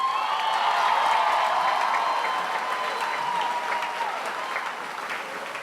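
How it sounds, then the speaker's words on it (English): Steady applause from a large audience at a high school commencement ceremony after a trumpet performance, broad and sustained with a little cheering, slowly easing over several seconds. "A round of applause for Amy."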